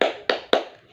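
A classroom claps the 'tepuk semangat' spirit clap in unison: three sharp, loud group claps in an even rhythm about a quarter second apart, each trailing off briefly.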